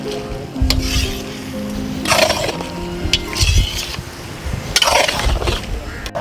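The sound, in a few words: stirring lamb karahi in a pot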